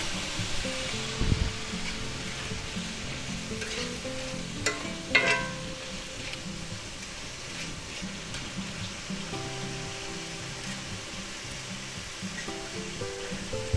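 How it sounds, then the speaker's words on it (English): Minced garlic frying in butter in a pan for Spanish-style eggs with mushrooms, a steady soft sizzle running throughout with a few louder scraping or stirring clatters near the start and middle. "we're going to add in our 2 tablespoons of minced garlic"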